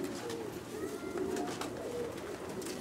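Pigeons in a loft near Zaatari, soft low cooing repeated several times over a steady background hum.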